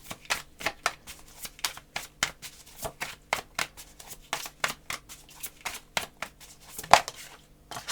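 Tarot cards are shuffled by hand up close, a rapid series of crisp riffling bursts repeating in a steady rhythm with short gaps between them.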